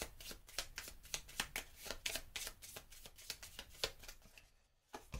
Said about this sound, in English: Shuffle up my deck.